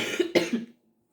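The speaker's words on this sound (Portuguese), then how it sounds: "desculpa a minha tosse" Two close, fairly loud coughs come in quick succession, the second one longer and raspier, from a person speaking Portuguese during a Bible talk. No speech is heard around the coughs.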